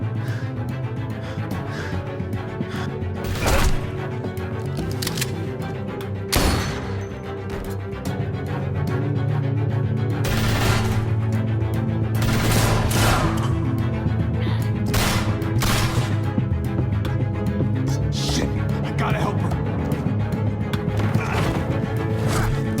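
Gunfire in The Walking Dead: A New Frontier video game: a series of loud, sharp cracks and bangs at irregular intervals over a rumbling, noisy battle background, with shouting voices.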